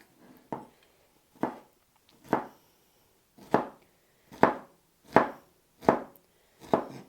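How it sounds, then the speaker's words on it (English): A knife chops peppers on a cutting board for scrambled tofu, eight crisp, evenly spaced strokes close by with short pauses between them and no talking. "So we're just chopping these,"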